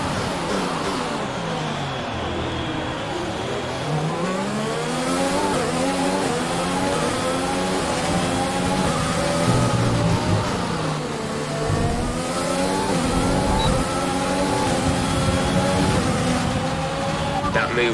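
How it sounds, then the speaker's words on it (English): An F1 2020 race car in China accelerates back to racing speed, its engine rising through repeated upshifts in a loud, whining sweep, with talk from a race engineer voice heard over it. "Let's get back up to racing speed."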